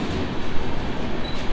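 Steady rumbling of the Hirakud SF Express departing Sambalpur station on LHB coaches, loud and close, with a continuous rolling noise throughout.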